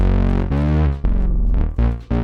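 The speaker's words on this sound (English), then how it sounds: "now we'll need a slide bass" A Juno synth slide bass for a pop track plays a few loud, buzzy, harmonically rich notes that glide between pitches, with short breaks between phrases and no other sounds.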